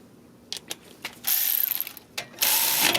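A ratchet tightens the rear brake bolts on a 2012 Dodge Caravan: a few short, close clicking bursts, then longer runs of fast, loud ratcheting, with no voices.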